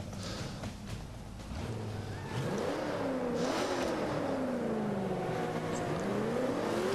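A vintage race car in Forza Motorsport 5 screams as it revs through quick downshifts, engine pitch climbing and dropping in wavering sweeps, loud and close with no talking.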